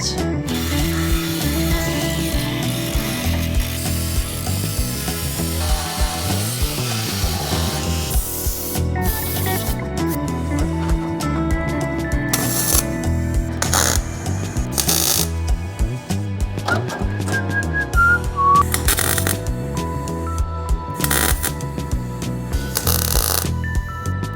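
Paint being stripped off steel plates for a vehicle bash bar before welding, a continuous loud whirring and grinding that shifts in pitch as the tool bears on the metal, with mechanical rattling throughout and no talk.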